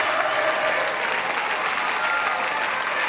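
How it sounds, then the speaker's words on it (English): Sustained, dense applause from a large stadium crowd after the men's 200m T43 final at the 2013 IPC Athletics World Championships in Lyon fills the space evenly, a steady roar of clapping with no breaks. "this is the largest round of applause we've heard in this stadium"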